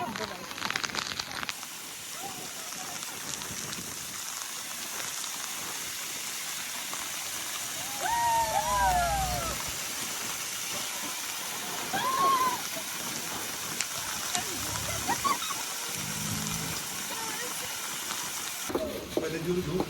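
A small monsoon waterfall near Kas in Satara pours with a steady broadband rush of falling water, close and continuous, while people talk over it and a few brief calls rise above the flow.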